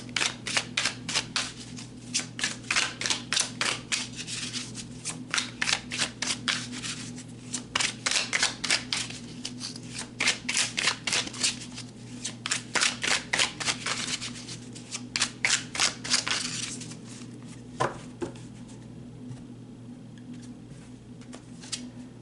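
Tarot cards shuffled by hand in repeated bursts of crisp riffling and flicking, with a steady low hum beneath and a few quieter pauses between shuffles, near and clear.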